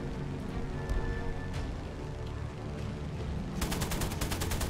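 Guns of a Typhoon Mk IB fighter plane firing in a video game, a rapid burst of automatic fire that comes in strongly near the end over a dense, continuous background of game noise.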